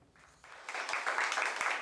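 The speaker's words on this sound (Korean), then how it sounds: "윤석열 후보가 국민의힘 입당 원서를 제출하자 박수 소리가 터져나옵니다" Applause breaks out at a political party headquarters as a presidential candidate, Yoon Seok-youl, submits his membership application to the People Power Party; a crowd claps steadily, swelling and holding at full strength for under two seconds.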